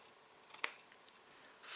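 A single quick snip of scissors cutting fabric for a trouser waistband, faint and close in a quiet room, followed by a soft brief rustle.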